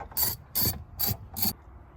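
A hand ratchet backs out 8mm bolts on a truck's shifter tower, four quick bursts of clicking with short pauses between, close and clear with no talk.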